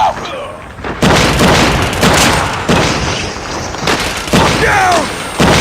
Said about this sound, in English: Friendly Molotov out.